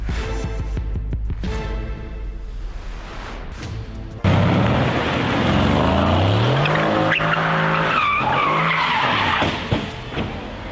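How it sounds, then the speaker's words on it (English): A luxury car drifts with loud, sustained tire squeal and skidding, engine revving, then a sudden heavy crash into a tree midway, followed by continued scraping and noise, heard close and alone without talk. "When you are trying to drift to impress, but forget that there is a tree standing there waiting for you."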